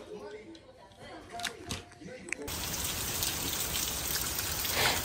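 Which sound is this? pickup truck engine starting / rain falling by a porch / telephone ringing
rain falling by a porch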